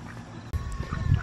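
A backyard chicken being handled near a garden gives a brief, close squawk over faint outdoor background noise.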